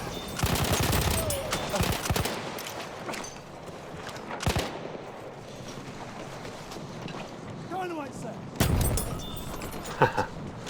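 Rapid bursts of MP18 Trench submachine-gun fire crack out in Battlefield 1, with short strings of shots separated by pauses and someone talking over much of the action.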